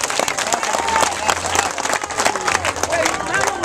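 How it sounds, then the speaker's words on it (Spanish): An outdoor community crowd applauds during a National Police event with Los Tres Brazos, clapping loud and close with crowd noise and voices mixed in, steady for a few seconds. "Vamos a darle un aplauso a la señora por el mensaje."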